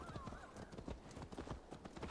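Horse hooves clip-clopping with a brief whinny in Assassin's Creed Valhalla, quiet rapid hoofbeats throughout and the neigh near the start.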